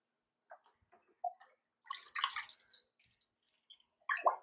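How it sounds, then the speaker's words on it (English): Water squirts from a neighbor's garden hose next door, coming in short, irregular hissing and spattering bursts with quiet gaps between them, faint and a little distant. "if you hear something that sounds like a hose squirting water"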